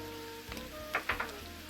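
Julienned yellow pepper frying in olive oil makes a soft, steady sizzle under a low background hum, with a few brief clicks and crackles.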